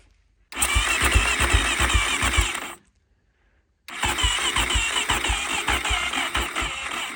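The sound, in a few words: KTM 450 engine of homemade buggy trying to run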